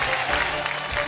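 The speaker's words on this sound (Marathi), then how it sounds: "जोरदार टाळ्या झाल्या पाहिजेत, वाजत राहिल्या पाहिजेत टाळ्या" Audience applause at a Marathi game show, a dense continuous wash of clapping from a crowd, steady and fairly loud for the whole short stretch with no talk over it.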